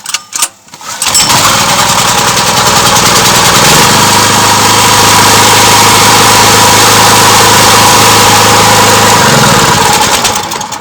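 A petrol generator rated around 2–3.5 kW, tested after repair, is pulled to start with a few sputtering coughs, then catches and runs at a loud, steady, close drone that holds throughout.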